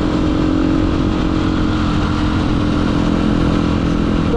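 A 2021 Yamaha motorcycle engine idles loud and close, a continuous throbbing rumble with slight revving and no voices.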